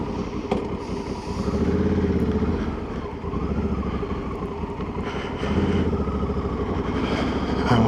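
Steady motor and engine drone on a motorway near Istanbul, with motorcycles riding alongside, heard continuously with wind rushing over the microphone.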